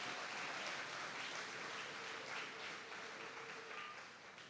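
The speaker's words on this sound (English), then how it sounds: "Give the farmers a big round of applause." Audience applause for farmers at an agritech business forum, a steady wash of many hands clapping that fades slightly toward the end, heard faintly at a distance.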